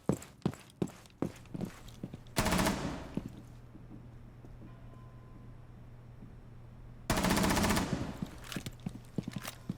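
Video game gunfire in a gunfight: rapid bursts of close shots, with two long loud sustained volleys between quieter stretches and scattered single shots.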